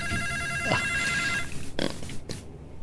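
Cellphone ringing in an Ilocano drama scene, a steady repeating ringtone for about a second and a half, followed by a few short bumps and handling noises as it stops.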